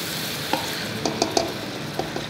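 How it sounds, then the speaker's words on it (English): Chicken with marinade and onions is stirred in a pot, with a soft sizzle and a few light scrapes and knocks of a utensil heard up close and without talk. "We're going to add in the chicken together with the marinade. I'm going to stir for a bit"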